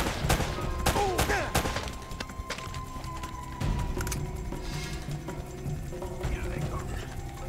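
Several sharp gunshots fire in quick succession early on in Uncharted: Drake's Fortune, loud and close, then the scene settles into steady action ambience with scattered impacts.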